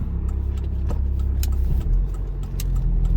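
A car passing through a road intersection during a driving test, heard from inside a vehicle as a steady mid-pitched engine hum with a shift in tone partway through, moderately loud, with no talking.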